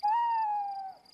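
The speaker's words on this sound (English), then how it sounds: "That's an owl." A single owl hoot at night, one smooth sustained tonal call with a slight downward fall, clear and close against a quiet background.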